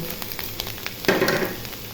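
Ground turmeric, salt, chili and coriander are added to hot oil with fried onion and garlic for a tengra fish curry, giving a close, steady sizzle and crackle that flares sharply about halfway through, with light stirring scrapes and no talk.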